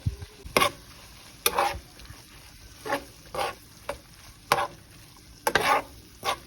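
Salsa is stirred into cooked ground beef in a pan, giving repeated scraping strokes of the spoon in an irregular rhythm over a faint sizzle, heard close with no talking.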